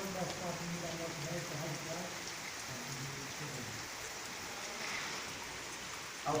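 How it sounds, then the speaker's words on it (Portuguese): Heavy rain falls in a constant, thick wash of drops hitting surfaces, loud and unbroken, with a voice speaking over the downpour. "Chuvada boa."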